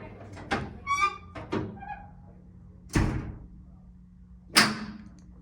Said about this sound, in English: Alright, if you heard that lock, that means this door is locked.